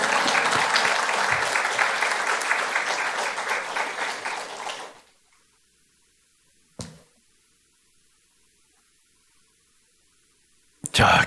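A church congregation applauds to welcome a missionary at an afternoon service, a thick burst of clapping lasting about five seconds that stops abruptly, followed by near silence broken by a couple of short sounds.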